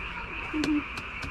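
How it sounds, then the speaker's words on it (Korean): A few short frog croaks repeat outdoors at moderate distance, with a steady background hum underneath. "야 더라 개구리 개구리 소리 봐라"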